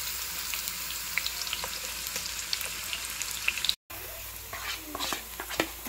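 Onions fry in hot oil for home-cooked vegetables, a steady close crackling sizzle with scattered pops, briefly cut off midway before continuing.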